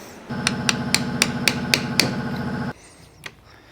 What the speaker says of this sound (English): we're going to get a socket that's just big enough to hit this and tap it in